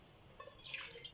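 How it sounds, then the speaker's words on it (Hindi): Water pours into a kadhai on the stove, a short splashing, bubbling stream that starts after a brief quiet moment and runs close and fairly soft. "इसमें हम 2 कप पानी के शामिल करेंगे"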